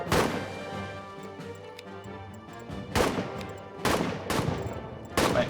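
Gunfire in the trench-war game All Quiet in the Trenches, with a scattered string of sharp shots, several loud close cracks spaced about a second apart over quieter distant firing.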